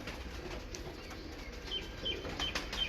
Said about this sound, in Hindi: ये बाहर का तो कोई कबूतर डालते नहीं इमरान भाई